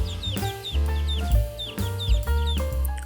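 Domestic chickens cluck and squawk close by in quick repeated bursts, several calls overlapping loudly with no talk.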